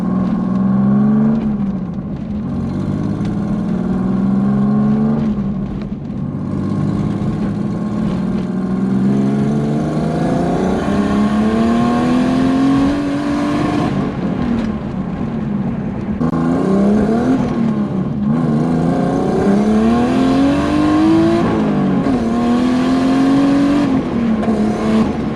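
A turbocharged BMW E36 accelerates hard at full throttle through repeated gear pulls, its loud engine note climbing in pitch, dropping at each shift and rising again, heard from inside the car.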